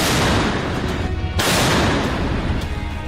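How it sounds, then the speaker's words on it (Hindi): A German PzH 2000 155 mm self-propelled howitzer fires in wartime Ukraine, a loud blast followed by rumbling noise, with a second sharp report partway through and no speech. "ये तोप 1 मिनट में 155 mm के 9 गोले दाग सकती है।"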